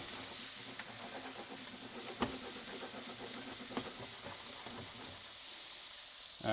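Scallops fry in a pan with a steady, close hiss and sizzle, soft crackles and occasional pops breaking through the constant spitting sound, with no talking.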